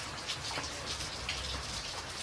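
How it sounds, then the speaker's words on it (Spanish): Steady rain falling on centuries-old stones in the town of Paraty, a dense, even hiss of drops pattering close by with no voices. "Fuera, la lluvia lavaba las piedras centenarias de Paraty"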